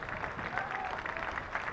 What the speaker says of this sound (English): And his teammates applaud his 4th first-class century